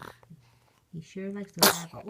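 A baby gives one short, sharp sneeze near the end of a brief stretch where adults are talking nearby.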